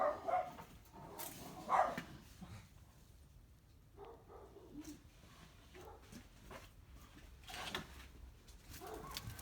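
Dog barking in a quiet outdoor spot during dumpster diving and scrap metal picking, with a few faint, sharp barks and yips scattered across the stretch, the loudest near the start.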